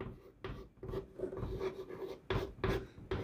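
A pen writes out a maths answer on paper with quick, close scratching strokes, stopping and starting in short bursts.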